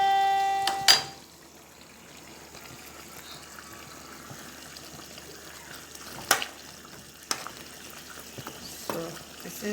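A pot of seasoned food simmering on a home stove gives a soft, steady bubbling and faint sizzle, with a couple of brief clinks of utensils near the start and later; no talking.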